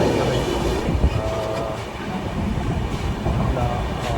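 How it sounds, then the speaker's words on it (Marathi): Steady rumbling and rattling heard from inside the moving Gitanjali Express train, a continuous loud drone with faint wheel clatter and no talk. "ट्रेनमध्ये बसतो आहे 1289 गीतांजली एक्सप्रेस आहे"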